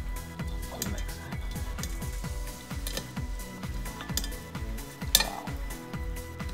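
A spoon gently folds fresh avocado salsa with black pepper and salt in a bowl, making light clinks and soft scrapes over a steady, rhythmic low background.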